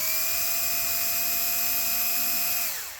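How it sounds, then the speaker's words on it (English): Power drill boring a hole at an angle into clay, a steady high whine held for a few seconds before spinning down at the end. "I'm gonna drill the hole a little bit more on an angle as opposed to straight in."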